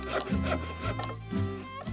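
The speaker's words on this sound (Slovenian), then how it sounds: "So žagali, brusili, dolgli, rezali, zvijali." Wood being sawn in a children's cartoon workshop scene, a steady back-and-forth rasping with strong rhythmic strokes, close and fairly loud, no voices over it.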